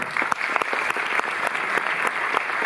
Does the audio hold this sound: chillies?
no